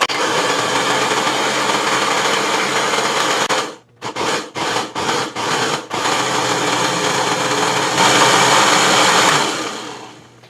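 A blender liquefies a sriracha chili pepper mixture in a loud, steady whir that runs throughout, briefly pulsing on and off in short bursts midway before resuming continuously.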